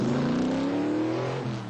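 A muscle car engine roars loud and close with a rising pitch, revving steadily before the note drops near the end; any tire screech is not clearly separable from the engine.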